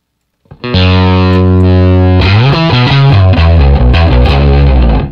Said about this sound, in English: That might be a little too much distortion on that